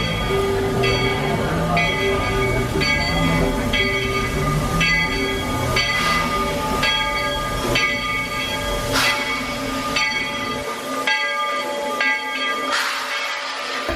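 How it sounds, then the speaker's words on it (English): Walt Disney World Railroad train at Lake Buena Vista, Florida, rumbling and clattering steadily along the track, with repeated bell clangs over the rolling noise and brief voices in the background before the sound thins out near the end. "So let's head towards the Walt Disney World Railroad."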